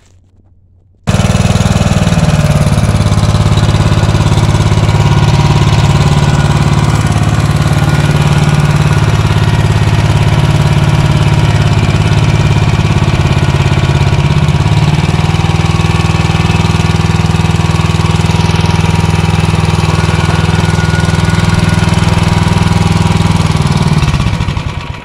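A repaired Wisconsin Robin W1-145 small engine starts after a moment of quiet and runs steadily for the rest of the clip, a loud, close, even single-cylinder idle with no talk.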